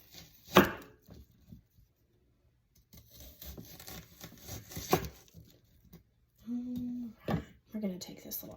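A knife chops the end of an onion in a few sharp, close cuts and scraping strokes on a board, spaced out between stretches of a person talking.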